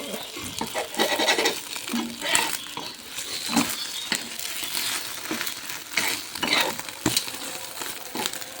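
Eggs frying in a pan for an egg and onion curry, a continuous close sizzle with scraping and tapping of a spatula throughout.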